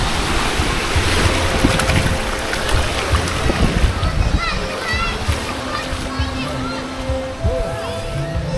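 Sea waves washing and splashing near a boat out on the ocean, with wind buffeting the microphone and people talking over the surf throughout.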